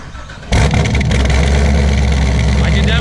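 An 841hp Corvette engine cranks and fires at about half a second and settles into a loud, rough idle with a duck call squawking in the exhaust tips. The rumble is close and holds steady to the end.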